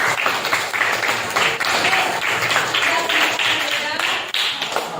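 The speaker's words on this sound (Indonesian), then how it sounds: "Beri tepuk tangan yang meriah" Applause from a workshop audience during a computational-thinking training session, a steady sustained wash of clapping at close range, with voices mixed in throughout.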